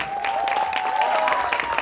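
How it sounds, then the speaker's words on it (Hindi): Applause from an audience at a film teaser launch event, a brief burst of many clapping hands with a tonal sound running underneath it. "एक बार जोरदार तालियां वरुण के लिए।"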